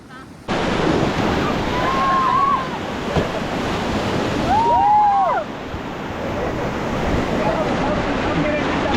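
A river in Kullu rushes loudly and steadily beneath a rafting boat, a broad roar of churning water and wind, with brief shouted voices rising over it.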